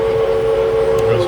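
A steady toy train whistle blows at a toy train museum, a sustained tonal note held close and loud throughout, with faint background noise.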